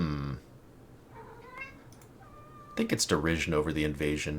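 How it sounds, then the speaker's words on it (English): A pet cat meows softly in the background at home, a few faint, brief meows between stretches of someone talking near the microphone. "Apologies if you can hear the cat in the background."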